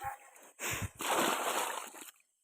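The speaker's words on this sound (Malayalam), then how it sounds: "കുറച്ച് വെള്ളം ഉണ്ട്, അത് നമ്മൾ വെള്ളം ഒന്ന് തേകി വറ്റിക്കാൻ പോകണം" Water sloshes and splashes in bursts as a small pond is bailed out at night to catch fish, close and fairly loud, with a short break between the scoops.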